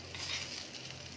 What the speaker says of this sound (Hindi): और बाकी तड़का भी इसके ऊपर डाल देंगे।